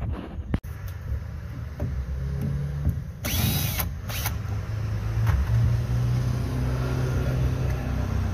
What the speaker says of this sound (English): the first thing we're gonna do is unscrew this primary bolt for the helm